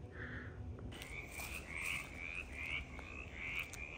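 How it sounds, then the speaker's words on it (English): Mountain chorus frogs calling in North Georgia woods, a series of short rising trills repeating about every half second, moderately near, over steady background ambience with no talking. "where the mountain chorus frogs are calling"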